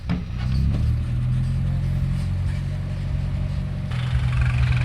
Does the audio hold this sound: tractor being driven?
yes